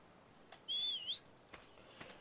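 A single sharp rising-and-falling whistle from the ARK video game, loud and clear against a quiet background, lasting about half a second with faint clicks around it.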